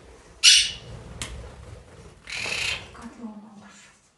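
Monk parakeets let out of their cage give several harsh, loud squawks in close range, sharp bursts separated by quieter chatter and rustling.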